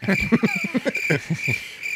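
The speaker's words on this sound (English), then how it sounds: "Been a while since I used the crickets." Cricket chirping is used as a sound effect, with a steady high insect trill running throughout under a voice talking.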